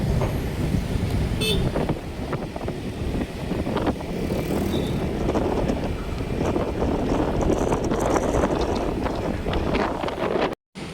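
Motorcycle ridden along a road near Wonosobo, heard as a steady engine drone under heavy wind buffeting on the microphone, continuous and loud with a brief dropout near the end.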